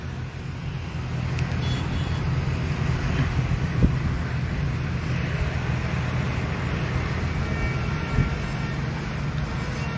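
Strong wind blows steadily during unseasonal rain in Halvad town, a continuous loud low rumble and gusty roar lasting throughout, with no voices.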